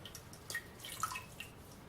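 Soft watery drips and light splashes as a makeup brush is dipped and swished in water, a few small swishes close by in a quiet room.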